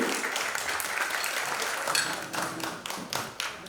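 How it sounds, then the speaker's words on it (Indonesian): Audience applause at an Indonesian CEO 2023 event in a Jakarta hotel ballroom, a dense, steady wash of many hands clapping at moderate level with a few sharper claps standing out near the end. "Boleh kita berikan tepuk tangan yang meriah Bapak dan Ibu?"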